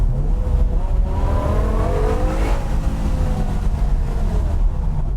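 A BMW M6 with a V10 engine howls steadily while driving through a forest, its rising and falling engine note loud and sustained, with rumbling road and wind noise underneath and no talk.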